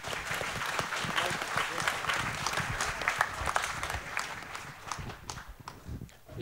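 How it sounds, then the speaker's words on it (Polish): Audience applause at the opening of the Golgota Młodych 2024 youth gathering, a dense, sustained wash of clapping from a large crowd with some cheering and voices mixed in, steady throughout. "Wielkie brawa."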